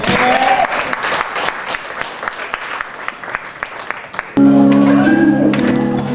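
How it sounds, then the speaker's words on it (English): An audience at an art show applauds, with loud clapping and a few sharp individual claps for about four seconds, then music with singing starts up abruptly. "let's give a round of applause"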